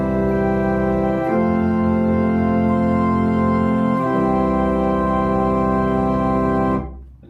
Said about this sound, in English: you can play the flute and string at both 8 and 4, and it sounds like this.